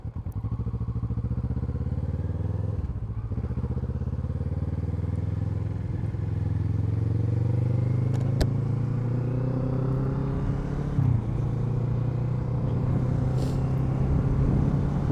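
A Kawasaki Z650 motorcycle fitted with an Akrapovic exhaust runs steadily up close, a loud continuous engine drone that rises gradually with a couple of brief dips and crackles, no talking over it.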